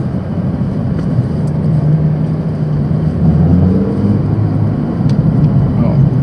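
A Chevrolet Camaro passes in city traffic, its engine a steady low drone that swells and fades nearby over constant road noise, heard from inside another car.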